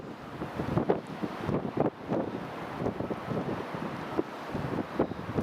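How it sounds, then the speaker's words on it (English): Gusty wind buffets a microphone outdoors beside an airport runway on a chilly January day, producing a rough, continuous rumble with surging gusts and no talking. "Quite chilly when that wind gets up."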